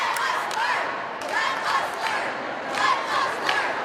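A crowd of protesting educators and students at a Cleveland school board meeting shouts and chants together in loud overlapping waves, with rhythmic swells of voices and occasional claps filling the room.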